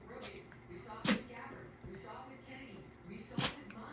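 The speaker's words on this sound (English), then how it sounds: "A lot of sneezing going on again." A kitten sneezes twice, each a short sharp burst a couple of seconds apart, close up in a quiet room with soft shuffling and a person speaking in between.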